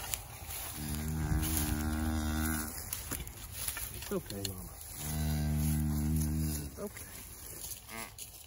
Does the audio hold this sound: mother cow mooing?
yes